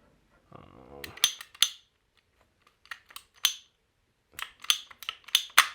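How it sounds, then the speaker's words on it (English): A pipe cutter snipping through 2-inch PVC pipe while fitting an outdoor faucet, giving a string of sharp, close clicks and snaps in bursts, the first after a low shuffling rustle. "Just grab your pipe cutter."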